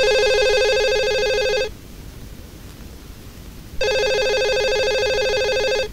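Telephone ringing in two long bursts of a bright, steady electronic trill, separated by a roughly two-second pause, loud and close with no talking.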